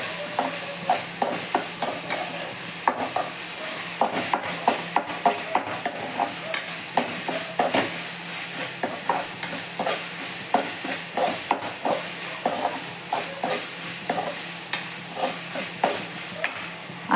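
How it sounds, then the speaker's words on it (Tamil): Ginger garlic paste sizzles in a hot pan while a spoon scrapes and stirs in quick, irregular strokes, close and fairly loud, with no talking. "இஞ்சி பூண்டு பேஸ்ட்டு சேர்த்துக்கலாம். பச்சை வாடை போகிற வரைக்கும் நல்லா வதக்கி விட்டுக்கலாம்."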